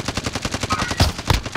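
Rapid automatic gunfire from a shooter video game rattles in fast bursts, loud and dense, with a couple of heavier impacts near the end and no talk over it.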